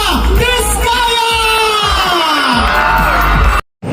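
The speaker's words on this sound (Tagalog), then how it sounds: "Bigyan natin isang masigabong palakpakan na may kasamang hiyawan ang nag-iisa, Ate Sara Diskaya!" A large concert crowd at a company founding anniversary cheers, whoops and shouts loudly and continuously for a featured singer, dense and close, then cuts off abruptly near the end.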